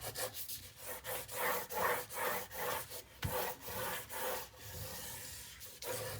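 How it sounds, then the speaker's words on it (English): Repeated rubbing strokes as a tool burnishes paper on a 9 x 9 Graphic 45 mini album, steady rhythmic scraping passes, close and moderately loud with no talking. "Give it a good old burnish."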